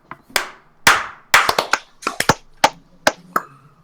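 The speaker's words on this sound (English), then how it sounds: "let's do our claps first" Sharp hand claps for audio sync, about a dozen loud, close, uneven claps in quick clusters with brief reverberant tails in a quiet room.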